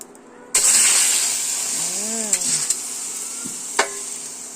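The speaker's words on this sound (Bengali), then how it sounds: "এদিকে ফোড়নটা এদিকে হয়ে গেল এবার ডালটা দেখো আমি ঢেলে দেবো" Dal poured into a hot spice tempering in a pan, bursting into a loud sudden sizzle that stays strong then slowly fades, with a few clinks and a faint tonal whine in the background.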